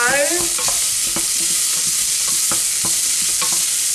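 Garlic cloves sizzle steadily in a hot pan, a constant close frying hiss broken by several sharp clicks and scrapes of stirring.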